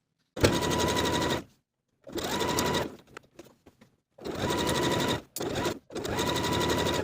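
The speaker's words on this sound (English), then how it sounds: "And then we can sew this neckband in place with a 3/8 inch seam allowance." A sewing machine stitches a neckband onto a sweatshirt, running in loud, steady motorized bursts of about one second each, separated by short pauses filled with faint handling clicks.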